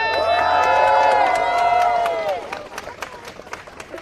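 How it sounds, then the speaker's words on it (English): A crowd cheers and claps outside 10 Downing Street at a free school meals letter delivery, a loud burst of whoops and applause that swells, then thins into scattered claps over the last seconds. "can I just have one final cheer for our fantastic speakers"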